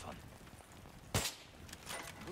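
A single gunshot from the Battlefield 3 campaign, a sharp loud crack with a brief tail, standing out against quiet background ambience and faint scattered noises.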